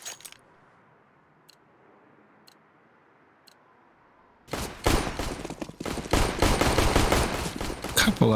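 Counter-Strike match: after a quiet stretch with a few faint ticks, a dense burst of pistol and gunfire shots breaks out and keeps going, sharp and loud, with no talk.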